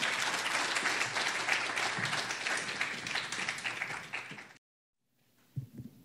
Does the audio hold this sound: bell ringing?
no